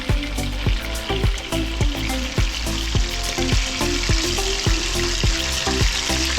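Lamb chops searing in a hot pan, a steady loud sizzle and crackle of frying fat with a series of sharp clicks and taps throughout.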